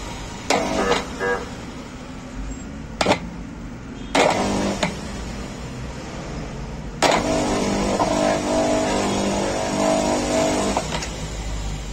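An electric motor with a worn shaft bushing starting up: repeated short bursts of starting, then a steady whirring run with a rough, tonal hum, heard close and alone.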